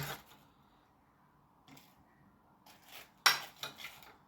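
Plates and cutlery clink faintly as food is served out at home, with a few soft taps and one sharper, brighter clink, close by, between quiet pauses with no talk.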